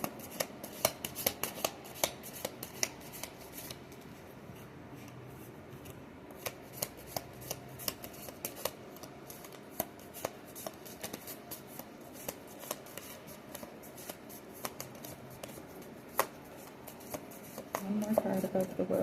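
Tarot and oracle cards are shuffled and riffled by hand in soft, irregular close clicks and flutters that continue throughout, with a louder flurry near the end.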